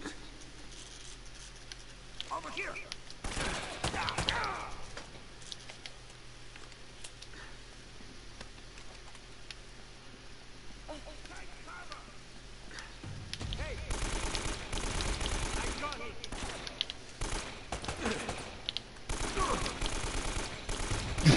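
Enemies fire guns in an Uncharted video game, with sporadic bursts of rapid gunfire and sharp cracks, quieter at first and growing into denser, louder volleys in the second half.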